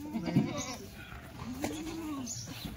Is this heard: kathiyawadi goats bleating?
yes